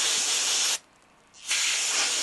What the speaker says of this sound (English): We're going to clean it out with some brake cleaner.